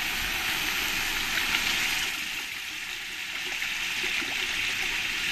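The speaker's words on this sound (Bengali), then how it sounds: "এবার আমি জল দিয়ে দেব।" Water poured into a pan of Bengali-style rui fish curry (jhal jhol) after the oil has separated: a steady, even rush of hissing liquid that lasts throughout, with no talking.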